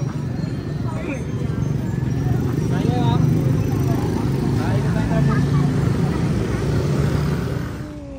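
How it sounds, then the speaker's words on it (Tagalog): Horse hooves of a horse-drawn carriage clip-clop steadily on pavement amid busy street noise and traffic in Intramuros, with people talking nearby. "Kabayo, kalesa."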